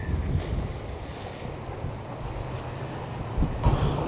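Ocean waves surge into a fully enclosed cove beside a natural rock bridge on the coast of Aruba, making a continuous broadband wash with steady wind rumble and a slightly louder surge near the end.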